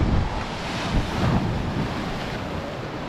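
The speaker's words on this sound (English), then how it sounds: "There's surf out the back there." Ocean surf breaking offshore at a murky, churned-up coastal break, a steady broadband wash with soft swells of rolling water and heavy wind buffeting the microphone throughout.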